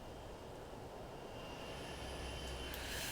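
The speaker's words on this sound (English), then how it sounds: "we can hear those engines spool down" Jet engines of a Zibo Boeing 737 in the X-Plane 11 flight simulator spool down after landing at San Francisco, a steady low roar with a faint whine, and nobody talking.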